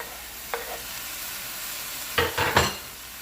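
Vegetables stir-fried with sweet corn and plum tomato in a pan: a soft steady sizzle with a few louder scraping stirs near the end, close by and with no talk.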